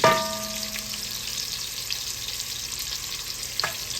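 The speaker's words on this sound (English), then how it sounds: "Then we're gonna throw our shrimp in there. Get it kind of going." Shrimp fry in oil in a pan for Cajun shrimp and sausage pasta, a continuous close sizzle after a brief initial hiss, with one small clatter near the end and no speech.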